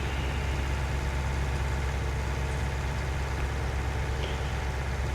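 Tractor engine idling in a farming simulator game, a steady, dense low rumble that runs without change or pause, loud and close, with no voices over it.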